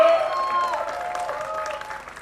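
Wedding guests applaud in a fairly soft, steady patter of claps for about two seconds, with voices and a faint tone running underneath.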